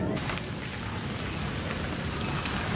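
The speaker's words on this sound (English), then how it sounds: "It starts raining again." Steady rain patters in a continuous hiss in Yogyakarta, Indonesia, close and even, with no voices.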